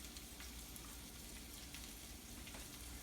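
Mushrooms frying in oil in a pan, a steady close sizzle with soft crackling that holds level throughout, no voices over it.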